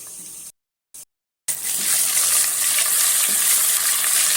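Chicken pieces fry in hot oil with a loud, steady sizzle that cuts in after two brief bursts and a pause, then continues evenly up close.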